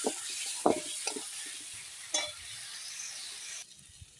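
Spice paste being stir-fried in a pan, with a soft sizzle broken by several scraping strokes of a spatula, close, then fading quieter near the end, no talk.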